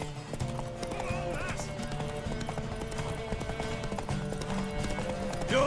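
Horse hooves clip-clopping in a steady rhythm with a whinny, from The Witcher 3 game, close and clear over low background music.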